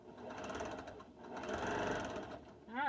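Sewing machine stitching the last seam of a quilt, a steady close mechanical whirr with a fast rhythmic needle chatter, moderately quiet and running alone.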